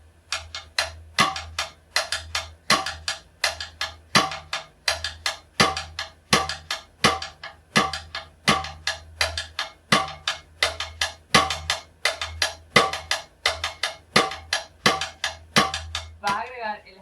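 Cumbia groove on a drum kit, played on the floor tom and snare rim: steady, crisp repeating clicks and thumps in a tight syncopated pattern with a constant low hum underneath, running without a break for about seventeen seconds.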